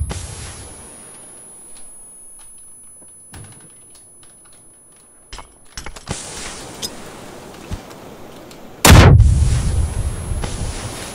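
A grenade explosion in the video game PUBG lands as a sudden loud, broadband blast that decays over a couple of seconds, following sparse clicks and a short burst of gunfire.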